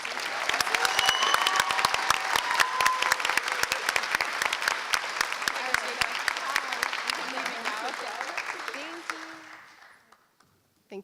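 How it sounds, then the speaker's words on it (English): Sustained applause from a graduation ceremony crowd honoring six students, dense steady clapping filling the room for about nine seconds before tapering off into quiet. "Please give these 6 wonderful students a round of applause."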